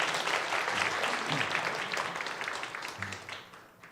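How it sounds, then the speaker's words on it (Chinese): A church congregation at a Sunday service claps to welcome visiting family members, a fairly loud burst of applause that slowly fades over a few seconds while a voice briefly sounds underneath. "掌声不够热烈，再热烈"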